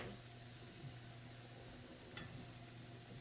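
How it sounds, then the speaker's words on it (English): Sausages fry with a steady soft sizzle in a pan, faint and continuous, with a pot of water boiling as a low bubbling hum underneath and no voices. "The sausages are burning, the mashed potatoes, the water is boiling."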